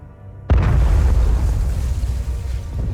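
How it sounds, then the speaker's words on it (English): Explosions in the Hell is Us video game: after half a second of quiet, a loud deep boom breaks out and keeps rumbling as heavy sustained blast noise to the end. "Those explosions."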